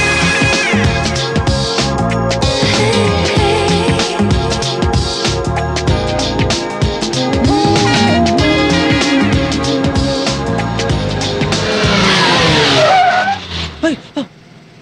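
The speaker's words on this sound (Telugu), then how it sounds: "ఏంట్రా అంత సడన్ గా బ్రేక్ వేసావు?" A jeep brakes hard, its tires skidding and squealing loudly at the end after a stretch of steady engine and road noise, the screech rising and cutting off abruptly.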